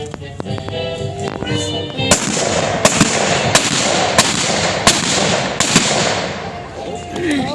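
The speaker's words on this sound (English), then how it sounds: "The audience seemed to be in awe of the accuracy of Annie's shooting" Trick-shooting gunfire at an outdoor Oregon Trail Days festival exhibition, a series of sharp, loud shots spaced about a second apart, cracking over a noisy crowd and announcer-style chatter.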